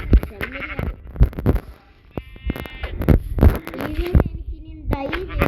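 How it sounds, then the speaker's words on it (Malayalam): A goat bleats in a video game, a short wavering cry in the middle of the stretch, while a player talks over the game sounds before and after it. "ഇവിടെ ആട് നിൽക്കുന്നു."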